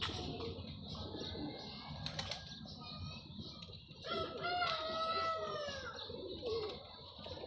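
A female pigeon at a pigeon club coos with soft throaty calls against a busy background of other birds, including a rooster-like crow and clucking fowl, at moderate distance under faint murmuring.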